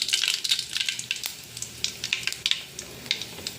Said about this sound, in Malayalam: അതിലേക്ക് നമുക്ക് കടുകിടാം.